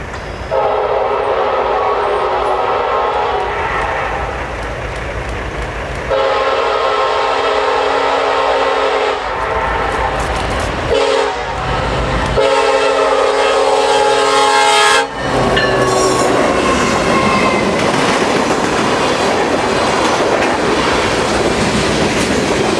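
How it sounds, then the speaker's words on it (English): Norfolk Southern NS 1073, the Penn Central heritage locomotive, passes close with repeated loud horn blasts in several long bursts, the rumble and rail clatter of the train continuing strongly underneath throughout. "The NS 1073, the Penn Central Heritage Unit."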